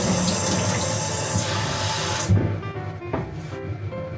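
Water runs steadily from a tap into a pot for Japanese tonjiru pork miso soup, a loud continuous splashing gush that cuts off abruptly partway, leaving soft kitchen clatter.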